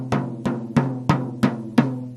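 Six evenly spaced taps on a drum head tightened only finger tight, each a short dull thud with a low, loose ring that dies quickly, played alone and close.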